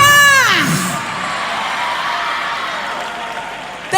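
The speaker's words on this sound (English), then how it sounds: "A round of applause, please, for Sihle." An audience applauds and cheers for a guest at a studio show. A voice at the start gives way to a steady, moderate roar of clapping and whoops that holds until a brief sound at the end.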